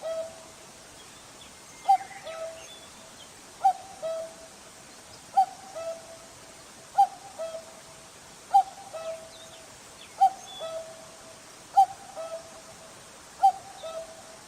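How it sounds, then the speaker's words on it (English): Cuckoo bird calling, a clear two-note call repeated about nine times at a steady, evenly spaced rhythm over faint background hiss. "Cuckoo."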